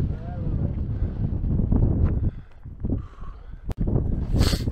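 Gusty wind buffets the microphone on a mountain trail near Chamonix on the Aiguilles des Posettes, with a steady roar that dips midway then swells again, and a voice speaks over part of it.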